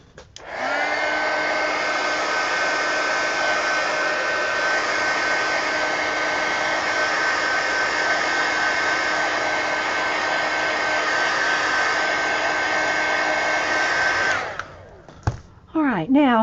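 A hair dryer runs steadily on a mixed media napkin journal page, a loud continuous whine lasting about fourteen seconds before it cuts off, followed by brief handling sounds and a short voice.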